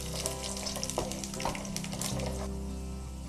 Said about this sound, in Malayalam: ഇതിലേക്ക് അല്പം ഉഴുന്നിട്ട് കൊടുക്കാം. നന്നായി ഇളക്കി കൊടുക്കുക.